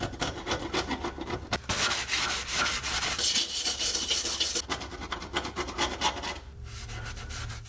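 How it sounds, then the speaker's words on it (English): Continuous close rubbing and scrubbing on the rusty body panel of a Jaguar S-Type while rust dissolver is worked in, a coarse, rasping sound with brief breaks and a low steady hum underneath. "Let's now apply one more layer of this rust dissolver."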